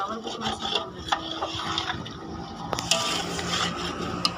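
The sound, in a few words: rice being roasted in spice masala for chicken pulao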